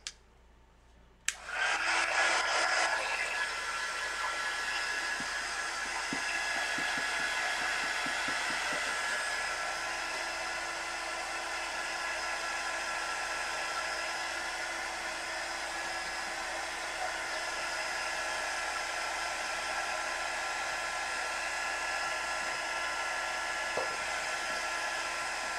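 A hair dryer switches on abruptly and blows with a steady, even whir for over twenty seconds, holding a constant high whine with faint clicks early on and no speech.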